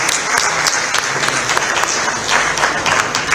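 Dense, continuous applause from a large crowd, steady and loud throughout with no pauses.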